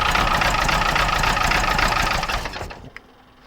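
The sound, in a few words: freshly built A-series engine misfiring, running on three cylinders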